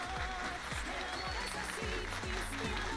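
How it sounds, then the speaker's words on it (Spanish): Applause fills the space with dense, steady clapping from many hands throughout. Low rhythmic thumps pulse beneath it. "Dale otro aplauso, Mickey, traidor."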